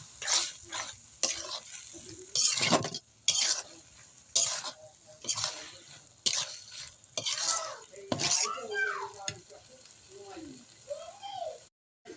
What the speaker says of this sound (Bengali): সেই ব্লেন্ড করে রাখা কলার মোচা দিয়ে দিব এবং ভালো করে মিশিয়ে নিব।